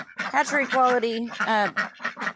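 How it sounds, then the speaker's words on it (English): Young Khaki Campbell ducks quack loudly and close, a burst of overlapping nasal calls in quick succession, rising and falling with brief gaps. "I have a bunch of young Khaki Campbells in here as well."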